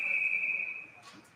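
A referee's whistle at a college ice hockey game gives one long, steady, piercing blast that fades out, with faint arena noise underneath.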